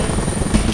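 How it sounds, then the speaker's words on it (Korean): Helicopter rotor drone arriving at a hospital, a steady low churning throb that holds level throughout, fairly close, with no talk. "든든한 헬리콥터 소리가 들려오기 시작합니다."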